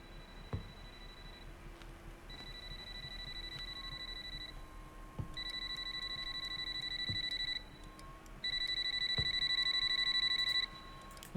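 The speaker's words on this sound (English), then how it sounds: "And the phone is ringing." A phone rings in the horror video game Lost Child, repeated electronic trill bursts with gaps between them over a low ambient hum, with no one speaking.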